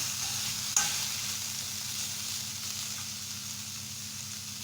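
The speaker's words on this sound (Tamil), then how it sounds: "நல்லா கிளறி விட்டுக்கோங்க" Goat spleen pieces frying in a little oil with slit long green chilies, stirred in the pan: a steady, soft sizzle throughout with one brief scrape near the start.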